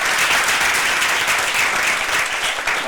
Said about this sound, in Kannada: ಎಲ್ಲರೂ ಚಪ್ಪಾಳೆ ತಟ್ಟಬೇಕು ಅಂತ ಹೇಳ್ತೀನಿ.